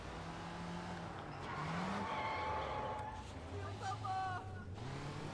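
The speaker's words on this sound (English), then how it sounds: "Keep the engine running." In the video game Sleeping Dogs, a car engine drones while tires squeal in a skid, with rising revs and screeching mixed under game voices and background noise.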